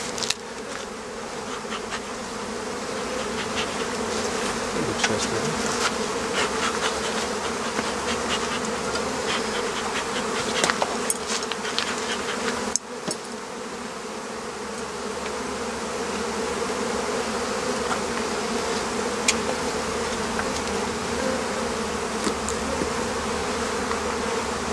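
A honeybee colony being moved from its hive into a larger, clean hive buzzes loudly and continuously, a dense swarm drone with individual bees passing close by and occasional brief knocks of the hive box.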